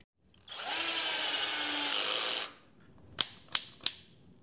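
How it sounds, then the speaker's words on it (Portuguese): A Titanium 12V cordless drill-driver whirs at steady speed for about two seconds, then falls quiet before its torque clutch snaps out three sharp, evenly spaced clicks. "Vou desligar quando ela fizer o barulho aqui da engrenagem."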